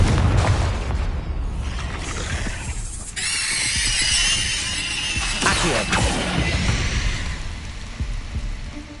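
A Confringo blasting curse detonates in Hogwarts Legacy, a loud burst around the middle amid dense game effects, rumble and a whooshing crackle, with continuous busy background sound throughout.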